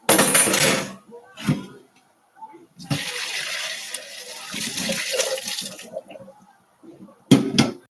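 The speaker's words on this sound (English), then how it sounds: "let's take these spoons out of here" Metal spoons clatter and scrape as they are lifted out of a pot of shrimp and sausage boil ramen, several short clanking bursts mixed with watery sloshing at close range.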